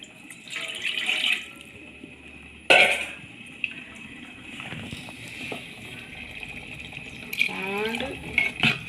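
Hot liquid is poured into an okra curry cooking in a pot, heard as a few short splashing pours separated by quieter gaps with faint background noise.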